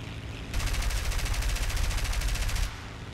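War Thunder aircraft machine guns fire one sustained, rapid burst of about two seconds. The close, evenly ticking rattle starts abruptly, then cuts off over a low engine drone.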